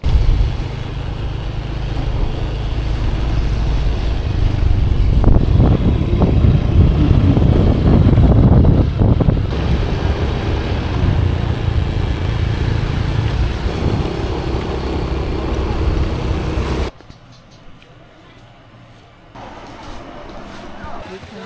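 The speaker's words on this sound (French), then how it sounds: "on a chopé un petit scooter pour 300 pesos" A small scooter engine hums steadily under rushing wind noise for most of the ride in Cebu, Philippines, then drops away to quieter background near the end.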